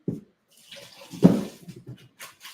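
Water sloshing and pouring as a pot of cooked noodles is drained, in short uneven splashes with a louder gush in the middle, close by and with no talking.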